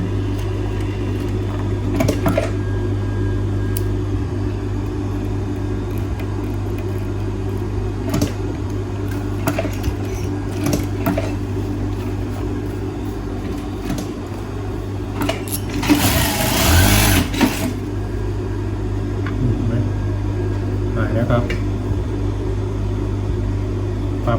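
A sewing machine with its rotary hook set too close to the needle runs continuously with a steady low motor hum and mechanical whir, with occasional clicks and a brief louder rattle partway through.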